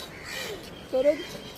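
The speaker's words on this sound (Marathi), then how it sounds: "कावळ्यांचा मोर्चाच भरला इकडं." A crow caws briefly amid a flock, one short harsh call rising over faint background after a quiet moment, with speech nearby.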